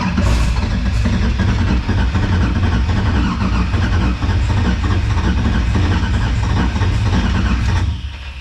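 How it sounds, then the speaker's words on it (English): LS V8 swapped into a Nissan 350z drift car, cranked over on the starter to prime oil pressure: a steady, loud, dense low mechanical churn that runs continuously and cuts off near the end. "I wanna go ahead and prime everything with the starter and get the pump cranking"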